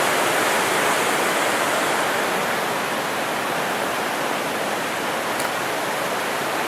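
A mountain creek, Thunderhead Prong in the Great Smoky Mountains, rushes steadily and close by as a dense, unbroken roar of flowing water with no voices.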